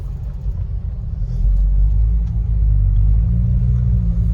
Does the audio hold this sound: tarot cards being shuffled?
no